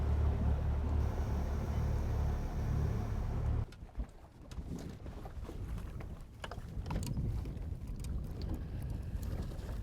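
Lund fishing boat running across a windy lake, a loud steady outboard engine drone that cuts off abruptly partway through, leaving wind buffeting and water noise behind.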